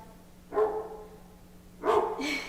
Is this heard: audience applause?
no